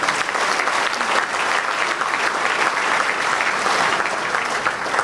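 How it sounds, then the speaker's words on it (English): Sustained audience applause at a 2007 Ontario PC Party political speech in Toronto, steady broadband clapping from a large crowd filling the full five seconds with no pauses. "Dalton McGuinty, go ahead and applaud him"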